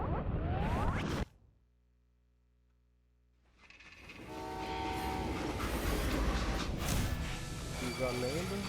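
A train in the video game Call of Juarez: Gunslinger sounds a horn, then after a short silence rolls in with loud rumbling and clattering wheels, with voices heard over the noise.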